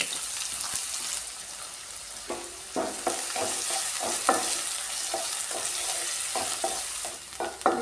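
Chopped shallots and green chillies fry in hot oil with mustard seeds for a Kerala sadhya ginger curry, a steady close crackling sizzle broken by repeated bursts of stirring in the pan.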